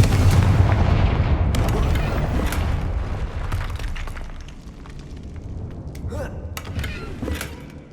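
A Confringo fire spell bursts with a heavy booming blast in Hogwarts Legacy, a loud rumbling explosion that decays over several seconds, followed by scattered crackles and faint pops.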